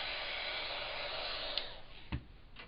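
A heat embossing tool blows hot air onto silver embossing powder with a steady, close, hair-dryer-like whoosh that keeps going throughout, broken near the end by a few small clicks and knocks.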